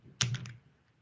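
A short burst of computer keyboard key presses while entering ChemDraw hotkeys: one sharp click followed by a few quick, lighter taps, close and crisp in a quiet room.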